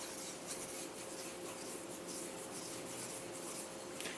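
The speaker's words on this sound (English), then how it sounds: "make it flat on the Whetstone, cannot touch the blade edge. So a little bit stand, and then sharpening along the curve" A yanagiba single-bevel knife blade stroked along a whetstone, producing a steady, faint, close gritty rubbing that repeats in even strokes with no voices.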